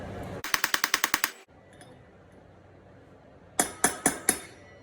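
A wheel bearing driven into a Suzuki LTZ400 front hub with a socket, a quick run of about eight sharp metallic hammer blows, a pause, then four more ringing strikes with a changed tone, close and loud.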